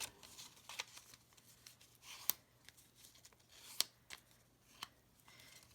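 Sheet of paper folded back and forth into a long accordion, giving soft crisp creases and rustles with a few sharper snaps, close and quiet, with no talking.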